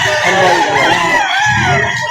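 A Sambanga white chicken at a Batangas poultry sale, calling out close and loud in a drawn-out crowing cry that rises and wavers for about a second before fading into rougher clucking.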